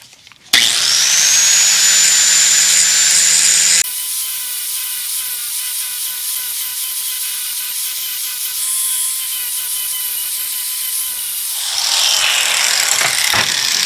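Angle grinder working on parts of a 1973 Mercedes 450SL R107, a loud continuous high whine close by that drops in pitch as it bites into metal and then spins back up near the end.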